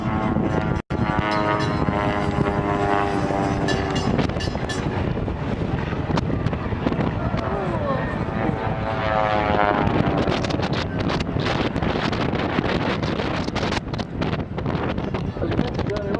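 Small propeller aeroplanes with short wingspans fly a formation pass at a seaside air show. Their engines give a loud, steady drone that swells and shifts for the whole pass, with wind buffeting the microphone.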